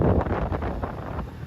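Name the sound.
strong wind on a boat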